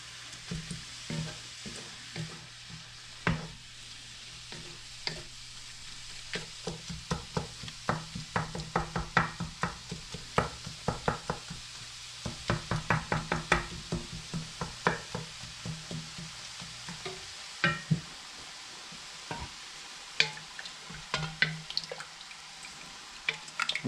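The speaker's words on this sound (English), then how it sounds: "Venison is browning up nice." Ground venison browns for chili in a hot pan, a soft continuous sizzle punctuated by clusters of sharp pops and crackles, with occasional clinks of a utensil stirring and no talking.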